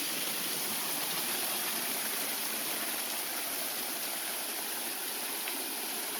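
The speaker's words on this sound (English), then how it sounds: "Standing actually in the middle of the waterfall right now." Steady loud roar of a waterfall at Holt's Hidden Falls in Cedar Lakes Botanical Gardens, Williston, Florida, heard up close as a dense unbroken rush of water.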